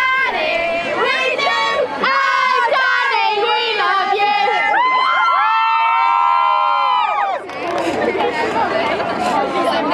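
A group of girls sings and cheers loudly at an Olympic torch relay in Ironbridge, their high, overlapping voices carrying chant-like tunes close by, with crowd chatter and whoops in between.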